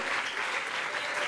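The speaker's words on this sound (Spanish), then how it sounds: "¿Por qué no está de pie y le da un aplauso y alaba a Dios?" Steady crowd applause fills a church service, dense and continuous clapping from many hands with no break, fairly close and even in loudness throughout.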